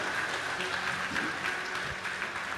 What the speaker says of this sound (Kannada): ಗಟ್ಟಿಯಾಗಿ ಚಪ್ಪಾಳೆ ತಟ್ಟುತ್ತಾ